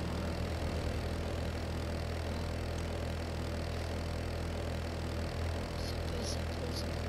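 A steady low car engine idle in LEGO Worlds, faint and even throughout with a few soft high blips toward the end.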